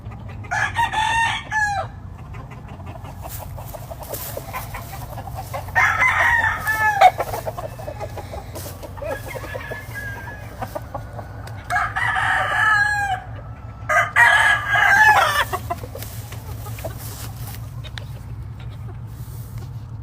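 Roundhead chickens on a California farm, with several bursts of rooster crowing and clucking spread over a steady low background hum, fairly close and clear.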